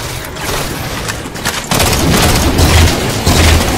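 Gunfire in Halo 4 on the last mission, a loud, dense run of shots and booming blasts with sharp bursts stacking up in quick succession, no voices over it.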